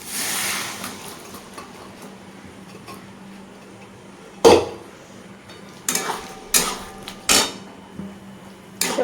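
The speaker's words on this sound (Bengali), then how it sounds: "ভালো করে কষিয়ে নিই" A spatula scraping and knocking in a pan while spices are sautéed, a few sharp metallic clanks and scrapes spaced irregularly over a faint low background, close by.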